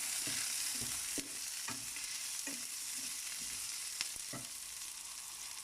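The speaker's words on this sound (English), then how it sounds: "So I'm going to put the 4 red chilies and then give it a mix." Paneer fries in a hot pan with four red chilies being stirred in: a constant soft sizzle runs underneath while a spoon scrapes through at a steady, repeated rhythm, close and fairly quiet, with nobody talking.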